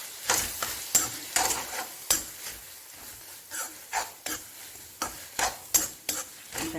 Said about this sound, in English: Saute it for another 2 minutes, and then we will leave it to cool down.